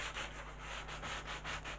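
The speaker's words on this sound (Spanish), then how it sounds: "Estoy utilizando un taco de lija de grano medio" A new medium-grit sanding block rubbed over a surface in a restoration workshop, giving rhythmic back-and-forth rasping strokes, about four per second, close and steady with no voices.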